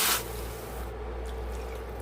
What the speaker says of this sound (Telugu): సేమ్ కప్తోనే త్రీ కప్స్ అనేది వాటర్ యాడ్ చేస్తున్నాను